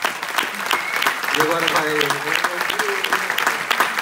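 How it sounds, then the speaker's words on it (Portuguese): Audience applause after a fado performance, dense clapping filling the space while a voice speaks over it and bright tonal instrument notes sound in the middle. "uma grande salva de palmas para ele"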